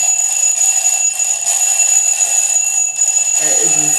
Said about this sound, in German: sorge dafür, dass der Wecker klingelt